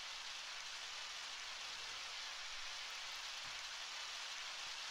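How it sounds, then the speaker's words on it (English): Muffled rain drums steadily on a cave roof in the Undertale video game, a continuous soft hiss that holds even and unbroken from start to finish with no voices. "the sound of muffled rain on the cave top fills you with determination"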